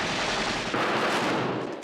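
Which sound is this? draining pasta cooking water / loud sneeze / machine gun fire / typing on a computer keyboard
machine gun fire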